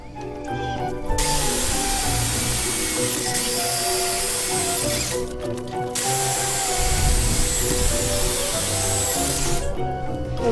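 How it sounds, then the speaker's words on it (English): A power drill bores holes in the metal rear deck of a custom truck camper, giving loud whining bursts with a harsh grinding edge. Three runs of several seconds each are split by short pauses. "We'll drill the rest of the holes."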